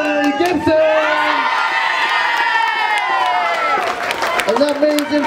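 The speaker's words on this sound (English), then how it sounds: "Another huge round of applause." Big crowd cheering and clapping at a nationals competition, a loud sustained roar with shouts rising and falling, while an announcer speaks over the applause.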